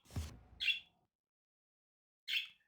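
An excited bird squawks in the background of a quiet spring day in Minnesota, two short sharp calls separated by a long silence, following a brief low thump at the start.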